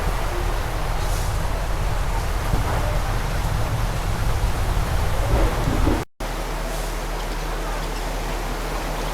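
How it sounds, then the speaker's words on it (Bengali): Heavy rain pours steadily in a dense, hissing wash, with low rumbling from the storm underneath, cut by a brief dropout. "প্রচুর বৃষ্টি হচ্ছে দেখেন ঝড় হচ্ছে"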